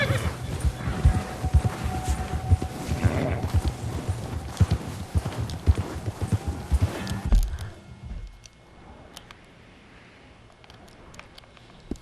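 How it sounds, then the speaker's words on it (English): Horse hooves clip-clop steadily through snow in Red Dead Redemption 2, a busy rhythmic plodding with a brief whinny, up close for about seven seconds before cutting to a much quieter stretch. "It's probably a little bit harder on my horse traveling through the snow as well."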